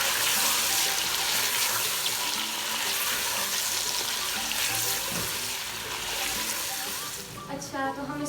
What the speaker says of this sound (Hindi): 2 से 3 मिनट मज़ीद भूनना है।